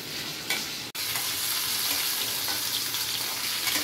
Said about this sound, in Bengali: দিয়ে চিকেনগুলো একটু ভাজা ভাজা হবে, এরকম একটু সাদা সাদা হবে